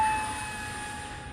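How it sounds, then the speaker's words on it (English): A model F7U jet-style airplane flies on its maiden flight, giving a steady, smooth whine and hum from a distance that fades slightly, with no talking. "It's going to be a very stable, nice flying plane."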